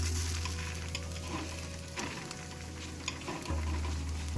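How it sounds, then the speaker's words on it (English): Tofu dry frying in a pan with no oil, a soft, steady sizzle running continuously under a low hum, with faint stirring scrapes and no talking. "These are dry fried, so there's no oil involved whatsoever."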